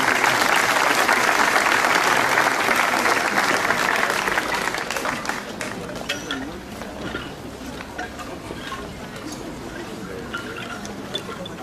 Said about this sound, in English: if I may have a round of applause for the performers